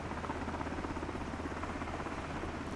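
A helicopter in flight gives a steady, even rotor drone with a faint pulsing beat that holds level throughout, with no voices over it.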